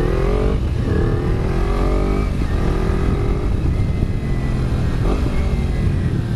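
A white Kawasaki Ninja sport motorcycle engine is revved continuously up close, a loud sustained roar with repeated swells in pitch every couple of seconds.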